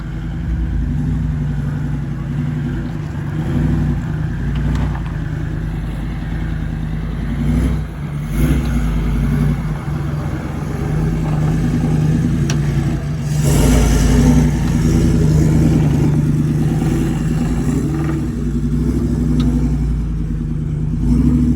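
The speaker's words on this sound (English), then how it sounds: "twin lock this time, so less track damage, easier on the vehicle" A four-wheel drive vehicle fitted with twin air lockers crawls over an off-road track, its engine droning and rumbling steadily up close with occasional revs and clatter throughout.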